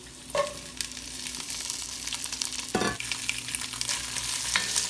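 Half an onion and celery sweating in olive oil, a soft, even sizzle held close throughout, with a couple of brief stirring scrapes and no voices.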